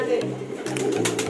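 Racing pigeons coo softly close by after arriving home from a training flight out of Santa Fe. Someone talks over the brief, low murmuring calls.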